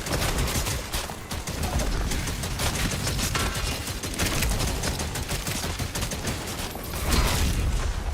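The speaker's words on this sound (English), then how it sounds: "Like, I'm just shooting shards of bone." Rapid, continuous gunfire from a weapon firing bone shards in Doom: The Dark Ages, loud and dense for the full stretch with sharp repeated cracks, building slightly near the end.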